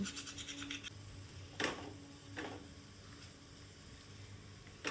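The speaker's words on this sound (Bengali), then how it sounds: "এবারও এটাকে ভালো করে নেড়ে চেড়ে কষিয়ে নেব" Chicken boti masala sautéing with ginger paste and Kashmiri chili powder over low heat, spatula scraping the pan in a few distinct strokes over a soft, steady sizzle, close and quiet, no talking.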